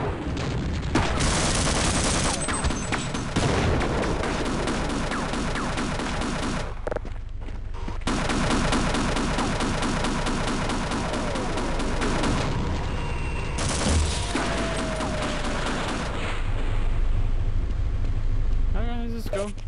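Grenade blasts and gunfire from the Half-Life PC shooter, dense and loud almost throughout, with bursts of shots and booming detonations, brief quieter gaps around the middle, and someone talking over the action.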